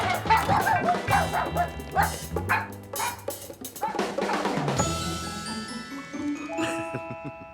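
A small cartoon puppy yaps and barks in quick bursts amid a busy mix of music and commotion, loud and close.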